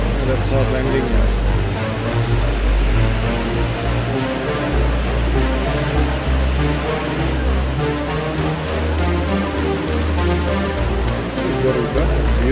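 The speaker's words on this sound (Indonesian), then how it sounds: "Ada pesawat landing ya." An Airbus A320 jet lands at a Jakarta airport, a loud, continuous roar of engine noise filling the whole stretch, with steady ticking clicks joining near the end and no talk.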